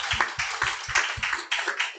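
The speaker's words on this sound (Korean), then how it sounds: "다시 한번 위드 히어로가 된 안현주 사장님께 큰 박수 부탁드리겠습니다." An audience at a company group meeting claps, with a quick run of distinct, fairly regular hand claps close by, about eight crisp hits in two seconds.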